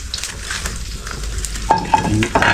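Dried fish frying in a pan, a continuous soft sizzle with occasional stirring scrapes and light clinks of utensil on metal, close and moderately quiet, with no talking.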